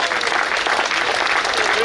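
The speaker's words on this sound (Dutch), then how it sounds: "Geef ze een geweldig applaus." Loud, continuous clapping from a crowd, with a few voices mixed in, sustained evenly from start to finish.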